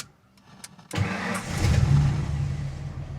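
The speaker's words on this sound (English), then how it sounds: "We started the truck." A manual pickup truck that has sat unused for a while cranks briefly after a quiet pause, then catches and settles into a rough, steady running rumble, close by with no talk over it.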